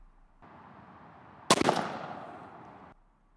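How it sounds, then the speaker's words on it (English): A single 28 gauge shotgun shot with a Rogue 10-shot load, fired during a pattern test with a Jebs choke: one sharp, loud crack that decays over about a second against quiet outdoor ambience. "Let's go ahead and shoot it and find out."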